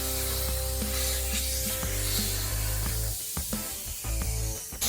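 Media blasting of a bare car chassis inside an enclosed blast booth during a rotisserie restoration: a steady, loud broadband spray hiss with a low rumbling drone underneath, continuous and close, with some irregular knocks near the end.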